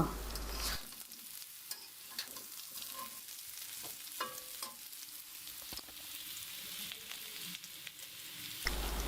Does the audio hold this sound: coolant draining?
no